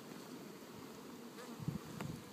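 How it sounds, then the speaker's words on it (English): Honey bees buzz in an opened, overwintered hive, a dense continuous drone of many insects close by, steady and soft, with a few louder individual passes and no talk. "This is a huge number of bees."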